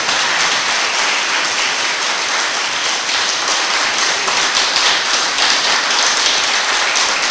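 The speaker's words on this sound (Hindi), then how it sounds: "एक बार जोरदार ताली बजाइए" A large audience at a Hindu spiritual discourse event applauds loudly, a dense, continuous wash of clapping that stays steady and close throughout.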